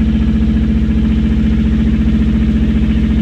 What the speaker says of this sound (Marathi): काट्यावर आता ट्रॅक्टर उभा आहे.